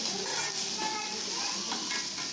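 Ginger and garlic sautéing in hot oil in a pan, a dense continuous sizzle up close with faint stirring underneath, brief and steady.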